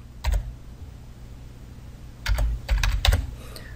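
Keys clatter on a computer keyboard as a zip code is typed into an Excel spreadsheet, a short burst of taps followed by a pause and then several more quick, close keystrokes.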